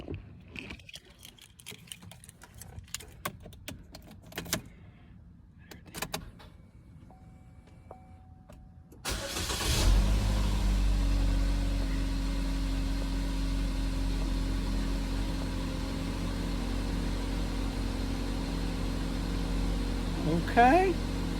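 A 2015 GMC Terrain engine cranks and starts after a few clicks and rattles, then settles into a steady mid-pitched idle that runs on close by.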